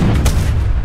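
Cannon fire in Age of Empires III booms loudly in one heavy, muffled blast with a rumbling low end that fades over under a second.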